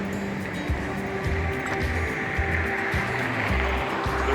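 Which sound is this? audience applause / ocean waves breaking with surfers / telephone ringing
ocean waves breaking with surfers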